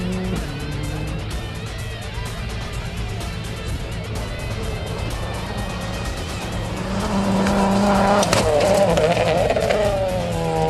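A Suzuki SX4 rally car races on a stage near St. Peter, Barbados, its engine revving hard and climbing through gears with tire noise, growing louder toward the end.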